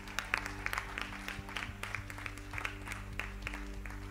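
A church congregation claps at a Pâques revival service, a steady rippling applause of many hands at moderate distance, with a low hum underneath.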